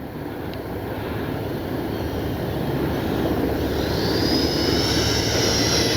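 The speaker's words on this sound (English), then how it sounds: "Good flying jet." A jet aircraft roars steadily in flight, a loud, continuous engine rush that swells slightly toward the end, with no talking.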